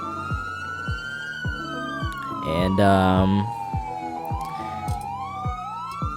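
A wailing police car siren in a Grand Theft Auto game sweeps up and down over a steady engine hum with repeated clicks, and a voice briefly speaks midway.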